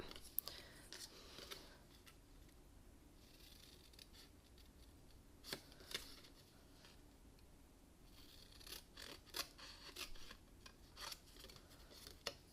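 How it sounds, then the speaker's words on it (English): Scissors cut paper along pencil lines for a dress-shaped card template, a quiet series of close snips and crisp paper rasps, spaced irregularly with no talking. "Just going to cut along those pencil lines"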